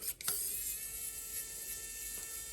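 Bolts on the mainboard fan of a Creality printer being undone, a close, steady ratcheting buzz that runs continuously under a faint high whine.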